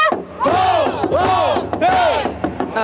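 A large street crowd at a march for public broadcasting chants a protest slogan in unison, three loud rhythmic shouted phrases rising and falling over steady crowd noise, close and dense.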